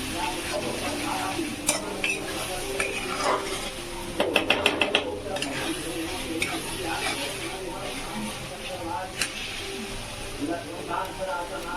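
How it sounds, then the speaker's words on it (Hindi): Masala roasts in a pan for matar poha, giving a gentle sizzle broken by repeated spatula scrapes, stirring and a quick burst of metallic clinks against the pan. "इसको अच्छे से भूनना होगा, भूनने पे इसका टेस्ट समझ में आएगा।"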